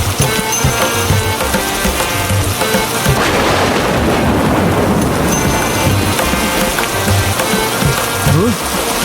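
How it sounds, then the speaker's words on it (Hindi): Heavy rain pours down hard in a dense, loud, unbroken roar, with splashing drops close by and low rumbling underneath, the downpour steady throughout. "अब तो बहुत जोरों की बारिश शुरू हो गई है।"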